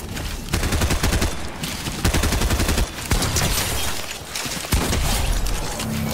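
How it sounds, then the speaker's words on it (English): Rapid bursts of video game gunfire rattle out in several volleys, loud and close, with brief pauses between strings of automatic shots and no voice over them. "Try to take my time with those shots there."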